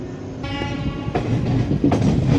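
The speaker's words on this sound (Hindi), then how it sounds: "अभी जो ट्रेन आपने देखा एक बीना जंक्शन पे एंट्री करते हुए वो आ रही थी जबलपुर की तरफ से।" From aboard the Lucknow–Bhopal Garib Rath, another train arriving at Bina Junction rumbles and clatters loudly nearby, with a horn-like tone at the start and rhythmic wheel clacks building toward the end.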